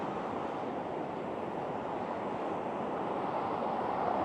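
River rapids beside the Sea to Sky Highway in British Columbia, a steady broadband rush of churning water with some wind, continuous and fairly loud, no voices.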